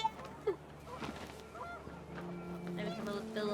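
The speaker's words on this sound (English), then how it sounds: "The wind picked up, and panicked geese appeared and quickly went." Panicked geese honk in the video game What Remains of Edith Finch on a windy scene, a few sharp calls early on, then a busier murmur of honks and rushing sound building toward the end.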